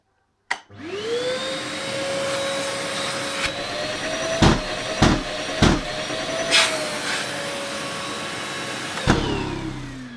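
A Bosch GAS 35 L AFC construction vacuum cleaner switches on with a thump and spins up into a loud steady whine, interrupted by several sharp clunks from its automatic filter cleaning before beginning to wind down.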